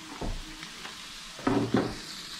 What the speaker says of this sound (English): Cooking swordfish.